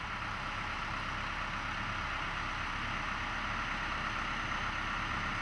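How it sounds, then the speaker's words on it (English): A Kobelco excavator engine with a Hino engine runs at a steady idle, a continuous low, even rumble with no clear start, loud and unchanging throughout. "Then start the engine."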